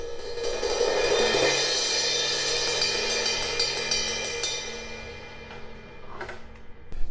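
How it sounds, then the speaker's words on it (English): A Zildjian K 17-inch hybrid crash cymbal in B20 alloy, brilliant in the center and unfinished on the outside, is struck once. Its bright, washy shimmer sounds close and slowly decays over several seconds. "This is the K 17-inch hybrid crash."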